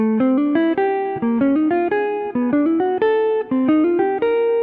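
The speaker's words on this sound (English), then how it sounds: "all 4 minor pentatonic scales moving up in half steps" A synthesized tone plays all four minor pentatonic scales in quick stepwise note runs, each short phrase climbing and restarting a little higher, ascending steadily in half steps; clean and alone, no voices.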